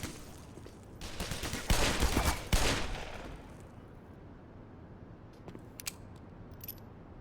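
Rapid gunfire in Black Mesa rattles in a dense burst of shots for a couple of seconds, followed by quieter clicks and clatter of shells being ejected.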